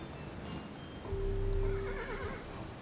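A tired horse in the video game Kingdom gives a clear, fairly close whinny that rises and wavers for about a second and a half, with soft hoof clops underneath and no talking.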